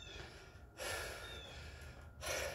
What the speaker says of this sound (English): You notice the heavy breathing?